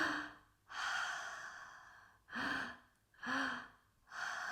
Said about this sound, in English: Inhale through the mouth.